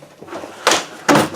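A wooden shop drawer pulled off its track, two sharp close knocks in quick succession after a faint scrape, loud and alone.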